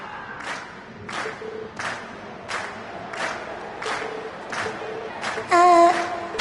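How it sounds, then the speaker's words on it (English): In a PS4 video game, a crowd cheers in rhythmic rising surges, about eight evenly spaced swells of voices, closing with a brief louder flourish. "we've heard your cheers loud and clear"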